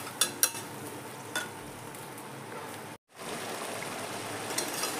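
Mushroom curry with a little water for gravy simmers and sizzles in a pan with a steady, soft hiss, a few faint clinks of stirring near the start and a short dropout midway.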